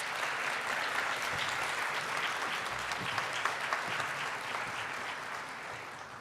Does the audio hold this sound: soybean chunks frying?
no